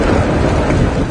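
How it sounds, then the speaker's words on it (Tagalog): Dense, loud rain and thunder from Typhoon Nina over Quezon province pour steadily with a deep rumbling roar underneath, a continuous storm wash with no pauses. "Naramdaman ng tuloy-tuloy na pag-ulan."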